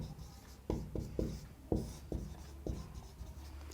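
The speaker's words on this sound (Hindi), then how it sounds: "मान लीजिए मैं लिखती हूँ कि गीता निबंध लिखती है।" A teacher writes a sentence on a classroom board, with several short, distinct scratchy strokes in an irregular rhythm at close range and no talking.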